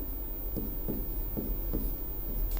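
Pen strokes scratch across paper in short, evenly spaced bursts over a steady low hum, close and fairly quiet, with no voices.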